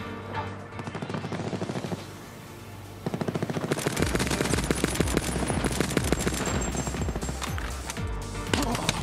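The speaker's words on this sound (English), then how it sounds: "You got a few shots on me, kid" Rapid automatic gunfire in Call of Duty Black Ops 4, loud sustained bursts with dense repeated shots, a brief lull near the two-second mark, then heavier continuous fire through the end.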